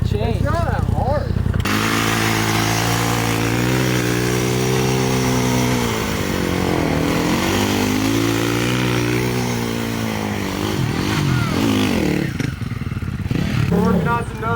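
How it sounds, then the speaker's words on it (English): A dirt bike engine revs loudly and steadily while riders practise nose wheelies on the street, the pitch rising and falling under the throttle, with voices talking over it. "We're working on some nose wheelies with Tate"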